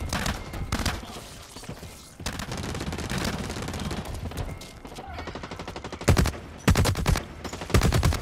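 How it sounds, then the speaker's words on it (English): Magnum pistol shots with exploding rounds in the shooter game Blacklight Retribution, a loud, dense stream of gunfire and blasts, with several sharp heavy bangs near the end. "I can shoot my magnum with exploding rounds."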